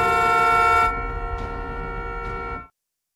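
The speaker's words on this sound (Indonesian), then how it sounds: "tidak sengaja menyentuh klakson truk tersebut hingga memecah keheningan malam di neraka zombie" A loud, sustained truck air horn blares at night in a film, then a lower horn tone continues briefly before cutting off abruptly.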